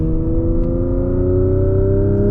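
A 2026 Genesis GV60 Magma electric car accelerating under load in high gear, its smooth rising whir and hum steady and close throughout, no voices.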